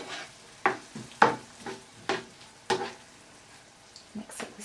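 Corned beef cooks in a pot while it is stirred, with a faint sizzle under several distinct scraping strokes spaced about half a second apart, close by and without talk.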